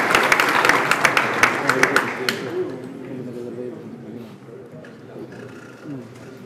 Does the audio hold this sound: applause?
yes